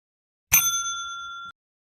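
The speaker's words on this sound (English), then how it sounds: "We don't spam the bell." A single bell ding rung at a check-in counter in a game built in Blender and Unreal Engine 5.6, a sharp bright strike that rings on for about a second, close and alone.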